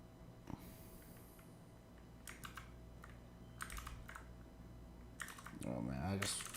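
Clattering keystrokes on a computer keyboard come in short bursts over a steady background hum, with a snort or breath near the end.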